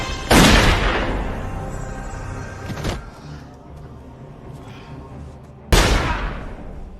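Two sharp, loud blasts a few seconds apart, each with a long decaying tail, with a rumbling gap between them.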